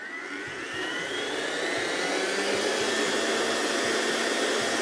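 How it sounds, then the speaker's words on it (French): An electric mixer runs at high speed whipping egg whites for macarons, a loud, steady whir that rises slightly in pitch as it spins up, close and alone. "donc là je mets en route mon batteur vivement"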